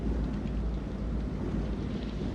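Thunderstorm rumble in the Man of Medan video game, a dense continuous low roar of thunder with rain and wind, loud and unbroken.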